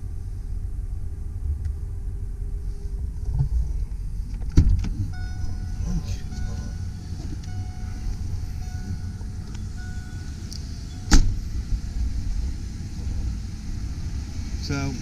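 A 1992 Ford E150 Econoline van with 118,000 miles idles with a steady low rumble, broken by two brief clicks or clunks partway through, with no one speaking.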